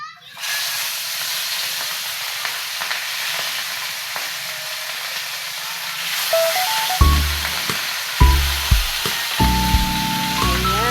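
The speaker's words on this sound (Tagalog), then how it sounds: "So, prito din tayo ng isda para mamaya hindi tayo na magluto" Fish frying in a pan at home, a continuous close hiss and sizzle with sharper crackles and clatter later on.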